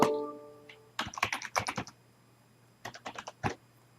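Close, crisp keystrokes on a computer keyboard as an email address and password are entered, a quick burst of typing, a pause, then a second shorter burst with no talking.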